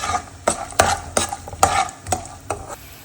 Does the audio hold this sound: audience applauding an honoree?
no